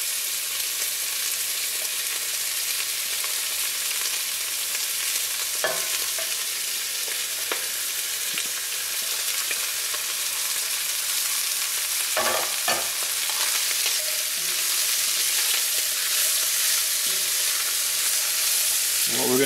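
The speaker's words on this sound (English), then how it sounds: "we're going to put our onions, peppers, and celery in there" Onions, peppers, celery and sausage fry in a pot, giving a continuous bright sizzle with a few scattered stirring scrapes and clacks, no talking.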